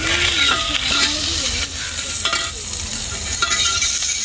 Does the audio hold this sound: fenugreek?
yes